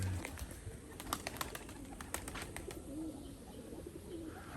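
Pigeons coo softly and repeatedly in a hot-weather loft, low murmuring calls amid a steady bed of bird noise, with someone faintly speaking nearby.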